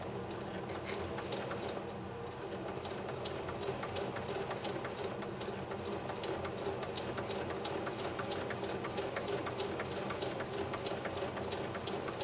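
A Singer Heavy-Duty 4423 sewing machine with a 0.9 amp motor stitching steadily, a continuous fast mechanical whir and patter at even level throughout, no voices.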